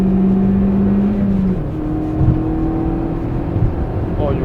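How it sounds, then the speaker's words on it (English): A tuned Suzuki Swift Sport engine pulls hard from inside the car on a corner exit, a steady rising drone with a gear change partway through, loud and continuous. "you really feel the difference in the tuned engine"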